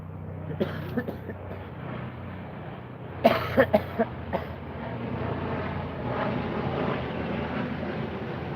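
A helicopter's steady low engine drone hums overhead throughout, with a burst of nearby coughing partway through.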